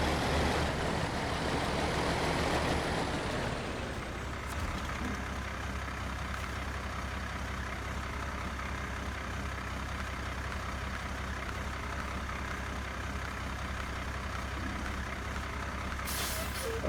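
Mack Terrapro logging truck in a truck simulator game pulling to a stop, a loud engine roar that drops to a steady idle as a sharp air-brake hiss is released, then continuous low rumble.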